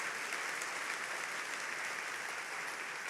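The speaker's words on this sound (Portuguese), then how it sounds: "dar uma salva de palmas aqui, para o que Deus faz" A church congregation applauds during a service, a dense, even wash of many hands clapping, loud and sustained from start to finish with no voices over it.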